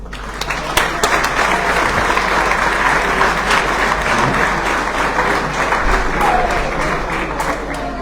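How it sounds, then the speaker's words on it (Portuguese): Audience applause at a 75th anniversary celebration for the Portuguese company Silampos, a dense, steady clapping from a large crowd that stays loud throughout with no break. "Uma salva de palmas."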